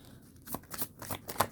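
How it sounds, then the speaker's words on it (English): Tarot cards shuffle quickly and close at hand in several crisp riffling bursts, alone without talk. "This is how I shuffle, you guys."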